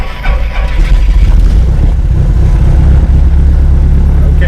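A Piper Apache twin's piston engine cranks and catches, settling into a loud, steady low-pitched running drone close by, with a voice talking over it.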